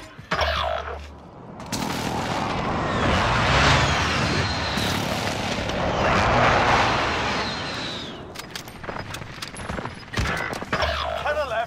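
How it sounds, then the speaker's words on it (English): Precision airstrike explosions in a shooter game, long heavy rolling booms swelling and fading across several seconds, followed by scattered sharp impacts and mechanical clatter. "Be advised, friendly precision airstrike inbound."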